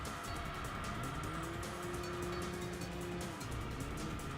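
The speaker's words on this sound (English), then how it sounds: "the engine sound for the Estima did change with the level 2 engine upgrade" Toyota Estima engine with a level 2 upgrade in the Enthusia racing game, a steady, full engine drone with rising and falling revs under continuous road and tire noise, holding close and loud throughout.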